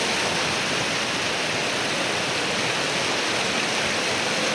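Water rushes steadily through a channel in Ladakh, a dense, even roar that stays loud and unbroken from start to finish, with no voices.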